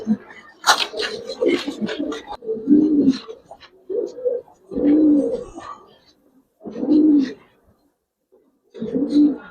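Giribaz pigeons coo close by in a loft, a handful of low, throaty calls repeating at a steady rhythm with short pauses; a few brighter chirps and rustles crowd the start.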